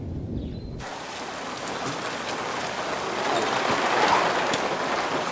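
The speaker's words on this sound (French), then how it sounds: "Oui, même moi, je vois, il pleut." Steady rain begins abruptly after a brief quiet moment and keeps falling outdoors as a dense, loud hiss that slowly builds, with no voices over it.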